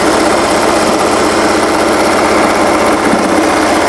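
A Singer 401A sewing machine with a ruffler foot stitches at steady speed, a loud close mechanical whir with a fast regular clatter throughout and no voices.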